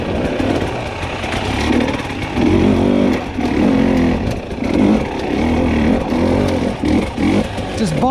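A 300 dirt bike bogging and lugging at low revs on a trail, its engine chugging and rising in uneven surges close by, with a voice talking over it.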